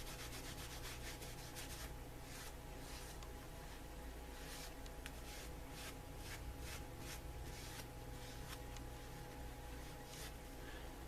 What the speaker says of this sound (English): And I just wipe off the excess.